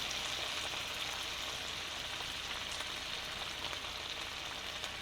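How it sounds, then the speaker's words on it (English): Juice from a whole lemon squeezed into a hot pan while cooking spicy shrimp zoodles makes a steady, even sizzling hiss that runs unbroken throughout, with no voices. "I'm going to take a whole lemon and I'm going to squeeze all the juice from that lemon"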